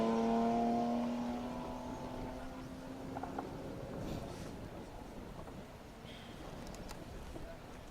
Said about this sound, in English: George Collister, Ian Postlethwaite, second time round for the BMW crew.